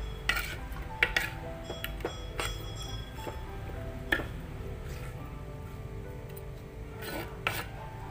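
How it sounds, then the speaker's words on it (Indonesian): Bandeng fish with salt being stirred in a pan for Gayo-style pengat, a spoon scraping and clinking against the metal in irregular strokes, close and fairly quiet. "lalu aku aduk-aduk hingga rata"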